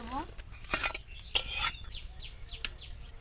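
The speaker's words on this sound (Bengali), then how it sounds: "যেটাগুলো সিদ্ধ করা হয়ে গেছে এবারে নামাই নেব একটা জালিতে" Boiled cauliflower stems are lifted out of the pot into a strainer, with close metallic scrapes and clinks of the utensil and a brief splash of water, followed by a few light knocks.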